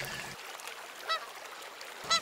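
Birds honk twice in flight, short nasal calls around the middle and at the end, faint and distant over a quiet background.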